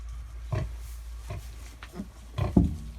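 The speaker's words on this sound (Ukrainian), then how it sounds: "Маємо на продаж ось таких поросяток." Several short, low grunts from purebred Hungarian Mangalica piglets, scattered and close by, with a louder cluster of snorts near the end.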